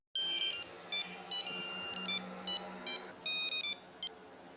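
A run of short electronic phone dialing beeps, bright and steady, in quick irregular bursts over a few seconds, with no voices.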